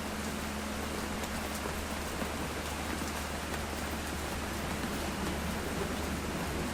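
Heavy morning rain falls steadily in a dense, unbroken hiss that holds at an even loudness, with no voices over it.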